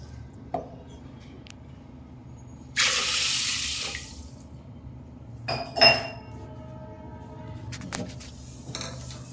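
A short gush of water, about half a glass, pouring into a pot for about a second, followed by a few metal clinks and clatter of a utensil nearby.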